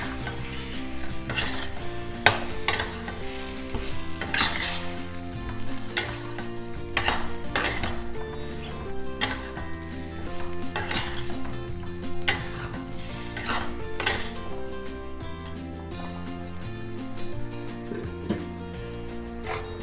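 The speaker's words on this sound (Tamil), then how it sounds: "ஆட் பண்ணி நல்லா மிக்ஸ் பண்ணிக்கலாம்." Chicken frying with masala in a pan is stirred repeatedly, giving rhythmic scrapes and clatters of a spoon on the pan over a steady sizzle. Background music plays throughout and there is no talking.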